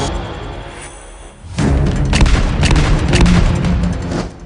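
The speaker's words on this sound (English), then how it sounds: "Did you hear that? Sounded like gunshots." Gunfire in an animated show: after a quiet stretch, a loud, sustained burst of booming shots and thuds rolls on continuously, close and dense, with no talk.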